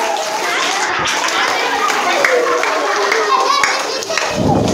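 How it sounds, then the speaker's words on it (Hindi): Many hands clap in a lively, continuous patter, with children's voices chattering over it. "ताली बजाओ, ताली बजाओ।"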